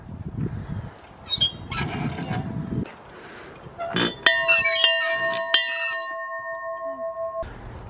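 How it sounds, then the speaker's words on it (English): An old fire station bell in a heritage village, rung by hand with several clangs that leave a long sustained metallic ring fading out, heard close by. "They've got a bell. I'm gonna ring that."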